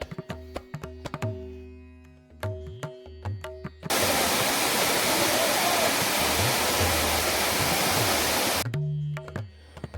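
A loud, steady roar of rushing water from Thusharagiri Waterfalls in Kerala fills the middle stretch, with intermittent talking before and after it.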